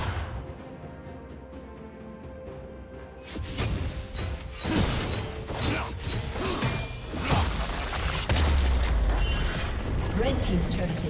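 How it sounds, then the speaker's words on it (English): A turret is destroyed in League of Legends with a rising whoosh and rumbling crumble, then layered game effects and an announcer voice, loud and busy. "Red team's turret has been destroyed."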